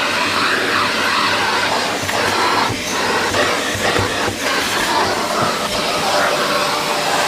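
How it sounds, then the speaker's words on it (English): A wet dry vac runs inside a flooded house, giving a loud, continuous, rushing roar with small fluctuations in intensity from start to finish and no speech. "Did I mention how good this wet dry vac is?"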